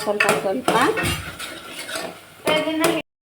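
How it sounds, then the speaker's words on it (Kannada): Fried corn kernels are stirred in oil in a pan, making close scraping and clinking strokes for about three seconds before cutting to silence. "ಈ ಫ್ರೈ ಮಾಡ್ಕೊಂಡಿರೋ ಮಕ್ಕಿ ಕಾಳನ್ನ ಹಾಕ್ಕೊಳ್ತಾ ಇದ್ದೀವಿ ಫ್ರೆಂಡ್ಸ್. ನೋಡಿ, ಈಗ ಹಾಕ್ಕೊಂಡಿದ್ದೀವಿ. ಈಗ ಮಿಕ್ಸ್ ಮಾಡ್ಕೊತಾ ಇದ್ದೀವಿ"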